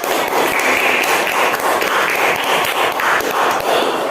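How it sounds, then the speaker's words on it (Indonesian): Steady clapping from a room of people in a classroom, a dense, even patter at fairly close range that continues without a break for about four seconds. "Terima kasih, tepuk tangan untuk kita."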